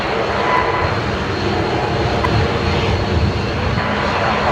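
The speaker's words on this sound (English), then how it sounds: "The Dash 8 Q400 there, just making the left-hand turn onto taxiway Yankee" Dash 8 Q400 turboprop taxiing at Brisbane Airport and turning left onto a taxiway, a steady, fairly loud broadband engine roar holding even throughout with no voices.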